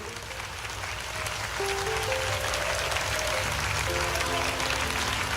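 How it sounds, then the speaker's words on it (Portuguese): Steady, dense clapping from a church congregation fills the whole stretch, with sustained musical tones and singing-like voices woven underneath. "glorifique ao Senhor com palmas"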